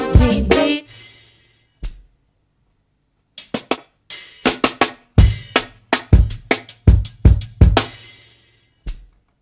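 A snare drum sampled from a song off an album cracks in sharp, separate hits, a few early, then a steady run of punchy strikes with short gaps, close and dry.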